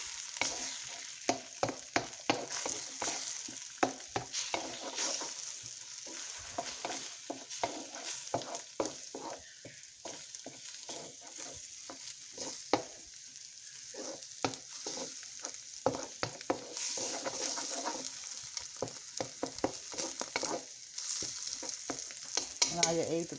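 An egg sizzles and fries in a pan pushed beside vegetables for shrimp fried rice, with a constant hiss under repeated scraping stirs of a utensil, close by and without speech.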